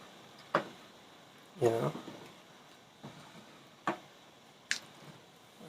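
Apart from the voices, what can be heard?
stirring and mixing rice and peas together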